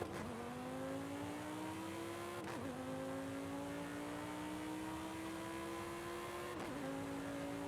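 Audi car driving in Forza Horizon 5, a steady engine drone that climbs in pitch through each gear, broken by two sharp shifts where the tone drops and starts rising again, loud and close with no talk.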